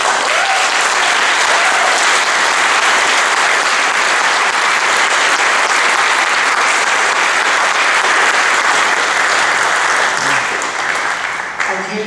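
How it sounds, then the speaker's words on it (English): Sustained, loud applause fills a celebration-of-life memorial service, a dense wash of clapping from a crowd that holds steady for about twelve seconds before tapering slightly at the end. "But if anybody deserves the applause"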